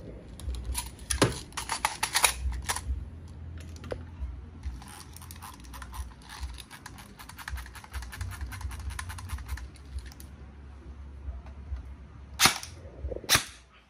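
A Double Bell M4 airsoft rifle, model 063 with a 6.5-inch front, fires during a velocity test, with single snapping shots followed by a long rapid full-auto rattle of close, sharp cracks, then a few more loud single shots.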